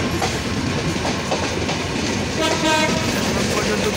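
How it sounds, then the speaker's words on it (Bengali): The Down Nilsagar Express rolls near Kamalapur in Dhaka with a steady, loud rail rumble and wheel clatter, and a horn blast sounds late in the passage. "ডাউন নীলসাগর এক্সপ্রেস ট্রেনটি বর্তমানে কমলাপুরের একটু দূরে আছে"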